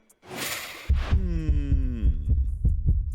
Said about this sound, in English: Heart beating, heart racing.